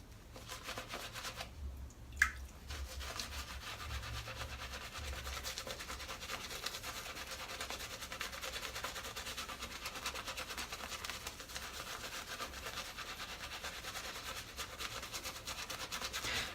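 Steady, soft scratchy scrubbing of a synthetic shaving brush lathering soap runs on at an even pace, close and continuous, with one faint tap early on.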